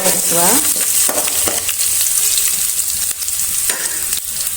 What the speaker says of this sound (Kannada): ಒಂದು ಐದಾರು ಎಸಳು ಬೆಳ್ಳುಳ್ಳಿನ ಜಜ್ಕೊಂಡಿದ್ದೀನಿ ಹಾಗೆ ಒಂದು ಸಣ್ಣ ತುಂಡು ಶುಂಠಿನ ಜಜ್ಕೊಂಡಿದ್ದೀನಿ ಅದನ್ನ ಹಾಕ್ತಾ ಇದ್ದೀನಿ